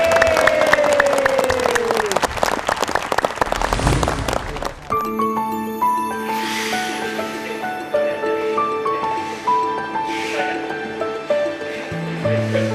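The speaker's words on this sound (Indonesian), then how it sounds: "Kasih tepuk tangan dulu." Dense applause from an audience, clapping loudly for several seconds before giving way to music with sustained tones.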